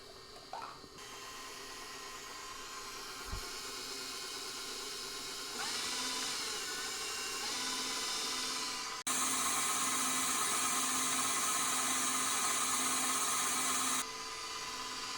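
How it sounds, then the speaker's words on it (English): Electric stand mixer whirring steadily as it beats ingredients for a smoked sweet potato casserole, a close, continuous motor drone that steps up in speed and loudness partway through, with no talking. "we're going to shift the mixer to high speed"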